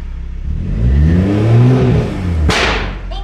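A car fitted with an RK titanium single-exit exhaust, running in limp mode on its first cold start, revs up in a rising, swelling roar that holds and eases, then a sharp whooshing burst as the throttle drops, loud and close.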